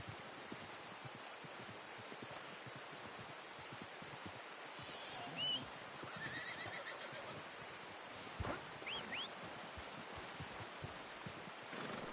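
A horse in the video game Red Dead Redemption 2 whinnies briefly over a steady wash of outdoor ambience and rustling, with a second faint whinny shortly after.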